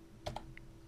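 A few quick keystrokes on a computer keyboard while numbers are entered into an Excel spreadsheet, two close clicks followed by a lighter tap, crisp and near in an otherwise quiet room.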